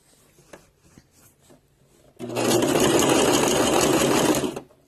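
A sewing machine stitches a puffy sleeve cuff, starting abruptly after a quiet moment with faint handling noises and running as a loud, steady, close whirring hum for about two and a half seconds before stopping.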